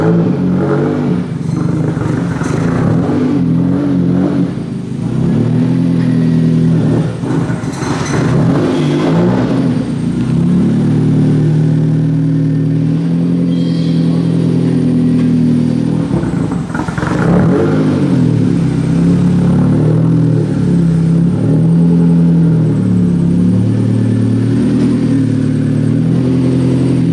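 A straight-piped turbocharged Mazda MX-5 runs loud and near for a long stretch, its raw exhaust rumbling and revving up and down repeatedly.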